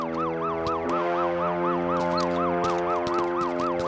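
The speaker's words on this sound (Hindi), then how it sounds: "एम्बुलेंस आई है।" An ambulance siren wails as the vehicle arrives, repeating its rising and falling cycle at an even, rapid pace. The siren is steady and fairly strong, with nothing else prominent.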